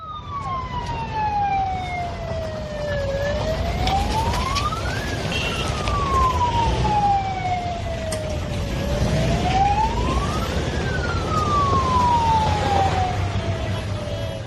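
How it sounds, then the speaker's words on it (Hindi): A wailing siren sweeps up and down in long, slow cycles over the steady rumble of a moving vehicle, loud and close throughout. "देखा आपने किस तरह से सायरन के साथ गाड़ी निकलती है।"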